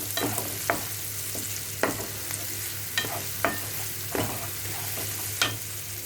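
Chopped onion and green chillies fry in a pan with a steady sizzle over a low hum, broken by sharp, periodic scrapes of a stirring spoon, close and moderately loud, no talking.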